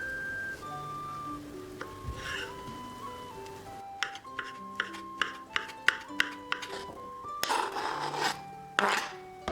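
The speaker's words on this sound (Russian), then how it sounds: "Авокадо нарезаю небольшим кубиком." Light, crisp knife taps on a board as an avocado is cut into small cubes, repeating in a quick irregular series, with soft rubbing and scraping between cuts.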